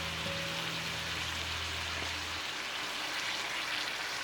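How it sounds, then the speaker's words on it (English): Wine drizzled into a hot pan of prosciutto-wrapped Roman saltimbocca hisses and sizzles in a steady, dense crackle throughout, with a low hum fading out partway. "So now we're going to drizzle with some wine."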